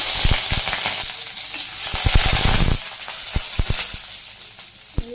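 Cumin and green chillies sizzle loudly in hot oil for a greens stir-fry, a steady close frying hiss broken by sharp scraping stirs of a spatula against the pan.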